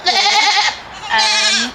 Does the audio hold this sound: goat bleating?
yes